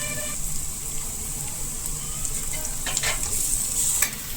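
Garlic chutney added to pigeon peas (tuvar) frying in a pan, with a loud, steady close sizzle and a few quick scraping stirs toward the end.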